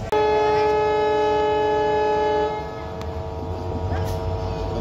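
A train stands at Ramdevra station ready to depart, with a loud sustained horn blast that cuts off abruptly, followed by low rumbling engine and station noise.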